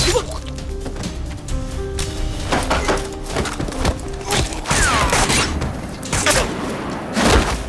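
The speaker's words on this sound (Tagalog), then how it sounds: "Nagpaputok si Toshiro ng baril" Gunfire erupts in a film scene, a rapid series of loud sharp cracks and thuds punctuating a busy, noisy action soundtrack.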